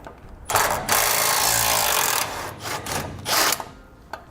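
A power tool fitted with a 16mm socket spins out the bump stop bolts on a 2016 Ram, loud ratcheting bursts of a few seconds each with short pauses, close to the microphone.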